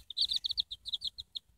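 Several young chicks in a box peep in quick, high, bright chirps, a steady run of short calls close by with no talking.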